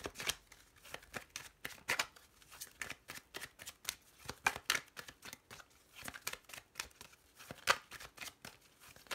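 A deck of Lenormand cards is shuffled close by in quick repeated riffles and flicks, crisp and fairly quiet, with short pauses between bursts.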